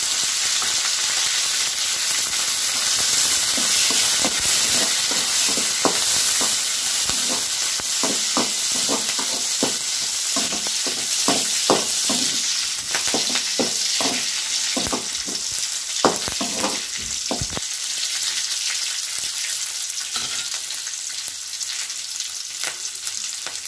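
Green chillies and curry leaves fry in hot oil for tomato thokku, a loud continuous close sizzle broken by a quick run of spatula clicks and scrapes that eases toward the end.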